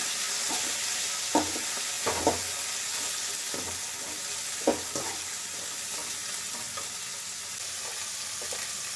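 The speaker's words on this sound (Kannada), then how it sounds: "ಕ್ಯಾಪ್ಸಿಕಮ್, ಟೊಮೊಟೊ ಹಾಕೋತಾ ಇದ್ದೀನಿ. ಫ್ರೈ ಮಾಡ್ಕೊಳ್ಳಿ." Green chillies, capsicum and tomato fry in a pan with a steady broadband sizzle, broken by a few sharp scrapes and taps of a spoon stirring the vegetables.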